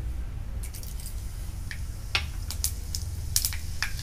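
Panch phoron spices dropped into hot mustard oil in a kadai crackle and pop, giving sharp scattered ticks over a low sizzling bed, moderately close, with no talking.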